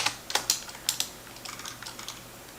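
Typing on a computer keyboard, a quick irregular run of close, crisp key clicks with a few louder strokes at the start, alone without talk.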